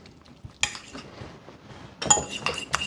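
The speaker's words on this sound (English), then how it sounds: "Again, just give it a good mix." A spoon stirs and mashes a paste in a bowl, with a few sharp clinks of metal against the dish between softer scraping, close and moderately loud.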